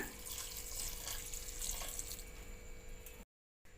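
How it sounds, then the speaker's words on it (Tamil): Water pours in a steady, close stream from a glass into a cooking pot of dal with banana flower kootu, cutting off abruptly near the end. "இப்போ நான் வந்து ஒரு கிளாஸ் அளவில் தண்ணி சேர்த்துக்கிறேங்க"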